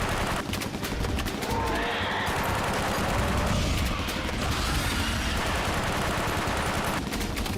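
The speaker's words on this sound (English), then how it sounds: "Stop praying and start shooting." Heavy bursts of automatic gunfire from a giant crocodile movie, with loud rapid rattling volleys and crashes filling the whole stretch, no talk.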